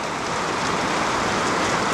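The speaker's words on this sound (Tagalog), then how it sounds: "papuntang dagat yung ulan" Steady, heavy rain hisses and patters on surfaces close by, a dense, unbroken wash of sound with no voices.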